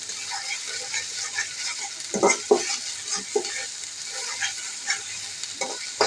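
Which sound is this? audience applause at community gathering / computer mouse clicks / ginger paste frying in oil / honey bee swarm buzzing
ginger paste frying in oil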